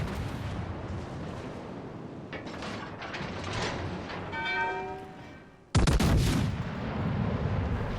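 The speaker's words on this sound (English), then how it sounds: "he's using his secondary guns on the Alaska" Battleship secondary guns booming in World of Warships Legends, a run of mechanical clatter and repeated shots followed by a sudden loud blast near the end, all without talk.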